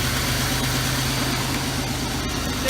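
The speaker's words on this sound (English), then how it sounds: "That engine didn't sound happy, that's for sure, but it's running now." Engine of a 1989 Oldsmobile Toronado Trofeo running after storage, a loud, close, steady idle with a low rhythmic throb and rough mechanical rattle throughout.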